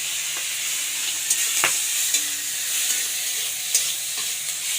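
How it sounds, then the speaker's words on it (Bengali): Prawns frying in oil in a wok, with a bright, steady hiss of sizzling oil close by and a few soft clicks of stirring, no speech. "চিংড়ি মাছগুলো একটু ভেজে নেবো"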